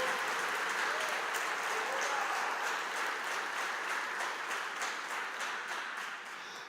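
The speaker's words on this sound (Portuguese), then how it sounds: "Você pode dizer amém e dar um aplauso bem forte ao Senhor" A church congregation gives a strong round of applause to the Lord, a dense, even wash of many hands clapping that holds steady and then starts to fade toward the end.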